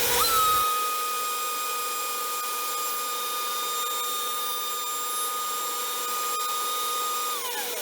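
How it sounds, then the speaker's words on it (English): A router fitted with a slot-cutting bit cuts a spline slot across a wooden miter joint, a loud steady high-pitched whine that holds for several seconds before winding down at the end. "Got a slot cutting bit here. Place it in here and then run it through my jig and cut the slot for my spline."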